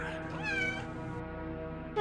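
Cat meowing in the video game Phantasmagoria, a drawn-out, wavering meow followed by the start of a second one, fairly close and clear.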